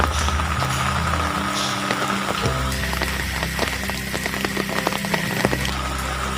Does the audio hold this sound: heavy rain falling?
yes